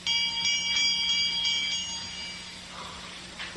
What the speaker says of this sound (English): I'm trying to see where that bell came from